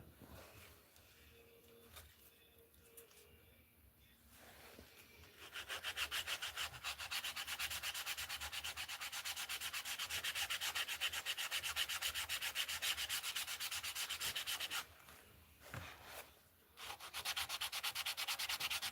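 Sanding by hand across the smooth side of a glued, folded craft piece: a steady, close, scratchy rubbing that runs continuously with a brief pause near the end, no voices.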